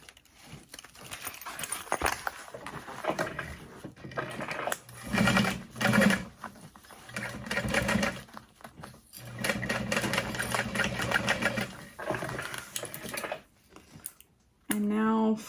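An electric sewing machine stitches fabric for a bowler bag, with bursts of rapid, rhythmic needle chatter running in several runs separated by short pauses, loud and close.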